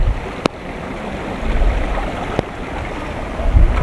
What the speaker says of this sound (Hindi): झरना का ही पानी आ रहा है यहाँ पे।